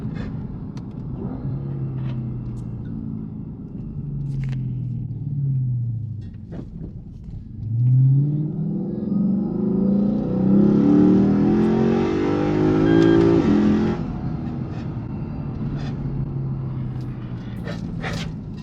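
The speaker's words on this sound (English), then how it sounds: "It's all induction noise right now." Engine of a Lexus IS F with a catback exhaust, induction noise prominent, idles low, then revs up in a long rising pull and falls back, with a few brief sharp knocks around it and no talking.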